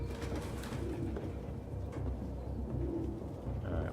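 Pigeons coo steadily in the video game Detroit: Become Human, several birds close by in a crowded indoor space with a continuous low warbling murmur across the whole span.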